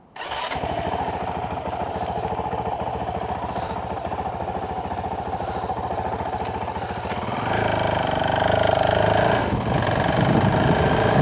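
A 2025 Honda CRF450RL dual-sport motorcycle engine fires up and settles into a steady, loud, close idle, with a slight rise in revs late on.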